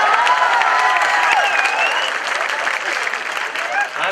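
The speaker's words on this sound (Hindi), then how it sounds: "ताली बजाओ" A crowd applauds during an Independence Day evening concert at JNU, with steady dense clapping that holds throughout and tapers slightly toward the end, and a voice talks over it.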